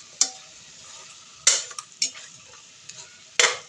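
Chicken frying in oil in a pot gives a soft background sizzle, broken by a few sharp scrapes and clinks of a utensil stirring against the pot.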